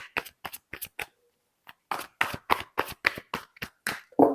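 Tarot cards shuffled by hand during a reading, a series of crisp, close slapping riffles in quick irregular bursts with a brief pause partway through; no one speaks.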